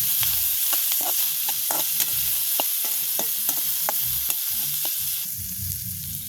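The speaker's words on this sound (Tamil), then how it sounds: "பச்சை மிளகாயம் வெங்காயம் போடணும் நல்ல ஒரு வாசம் பெறுது எல்லாம் சேர்ந்து வதங்க" Green chilies and onions sautéing in a pan, a continuous sizzle with frequent spoon taps and scrapes against the pan in an irregular rhythm.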